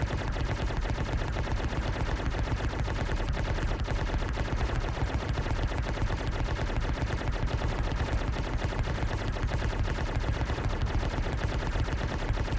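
Ship turret guns firing in a video game, a relentless rapid machine-gun rattle held steady and loud for over twelve seconds without pause or talk.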